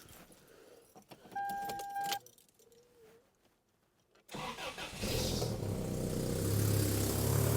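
A 1998 Toyota Tacoma being started: faint keys and cabin clicks, a quiet pause, then the engine cranks and catches around the four-second mark and settles into a steady close idle.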